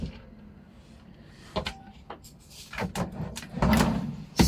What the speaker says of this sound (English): Solid drawers.